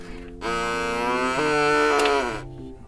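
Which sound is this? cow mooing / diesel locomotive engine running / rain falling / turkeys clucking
cow mooing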